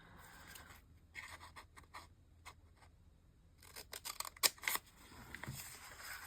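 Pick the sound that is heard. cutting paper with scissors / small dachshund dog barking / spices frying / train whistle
cutting paper with scissors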